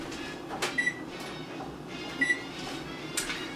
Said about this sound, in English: Okay, oven preheating.